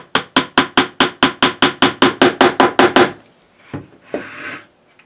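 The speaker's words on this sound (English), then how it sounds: "so then when we nail them home, it kind of forces the two planks up on each other" A hammer taps pins into planking on the wooden hull of a 1:200 OcCre Prinz Eugen model ship, about a dozen sharp, evenly spaced close knocks over three seconds, followed by a couple of quieter handling rustles.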